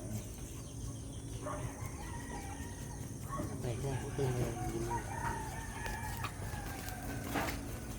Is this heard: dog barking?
no